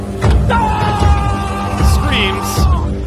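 A man in his underpants in the snow, holding two axes, lets out a long, loud, sustained scream, rising and wavering over a low rumbling background.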